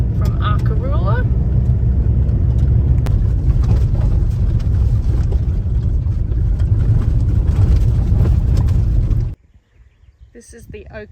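A four-wheel drive vehicle on a rugged outback track near Arkaroola in the Flinders Ranges rumbles steadily with rattles and bumps, loud from inside the cabin, then cuts out abruptly near the end.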